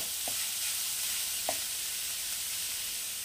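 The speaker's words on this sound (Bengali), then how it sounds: "গ্যাসের আঁচ একদম কমিয়ে দিয়ে লো ফ্লেমে এটাকে আমি ভাজা ভাজা করে নেব।" Chopped vegetables for Kolkata-style vegetable chop fry without water over a low gas flame, a steady soft sizzle with two brief spatula scrapes against the pan, close and alone.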